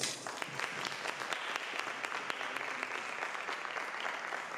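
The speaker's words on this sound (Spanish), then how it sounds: "Un fuerte aplauso." Audience applause at a psychoanalysis lecture, steady dense clapping from a crowd sustained throughout, fairly distant and even, with no one speaking over it.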